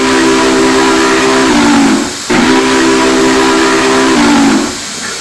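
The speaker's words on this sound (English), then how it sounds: "let's blow the whistle" Two loud, sustained blasts of a Union Pacific 844 steam locomotive whistle in Train Simulator 2020, each about two seconds, with a brief gap between and a constant hiss underneath.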